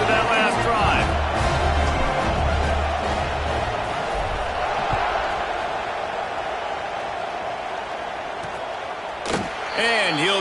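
A college football stadium crowd at a South Florida game keeps up a broad, steady roar with scattered cheers, under continuous play-by-play commentary.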